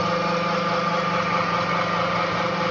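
A Chinese pellet mill granulator runs with a steady, loud mechanical drone and whine that holds constant throughout.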